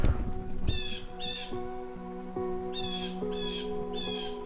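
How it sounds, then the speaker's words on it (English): A bird gives loud repeated harsh caws, in three-part bursts, at an abandoned ski area outdoors, with a steady tonal hum running underneath. "I don't think that bird wants me here."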